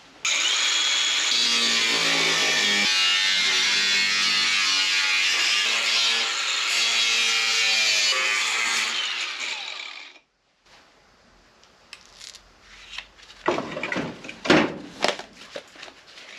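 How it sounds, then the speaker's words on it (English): Angle grinder with a cutoff disc trimming the edge of a 1955 car quarter panel, a loud continuous high whine for about ten seconds, then stopping, followed by scattered clanks and handling noises. "So I'll grab the grinder and we'll zip off just 1/8 the whole way around."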